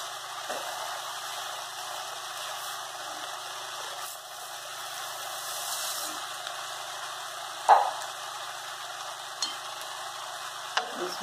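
Rice with Tuscan sausage stirred in a pot, giving a quiet, continuous low sizzle with faint scraping strokes and a couple of sharper utensil knocks against the pot.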